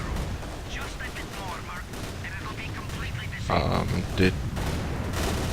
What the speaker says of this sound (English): at least got some more shots off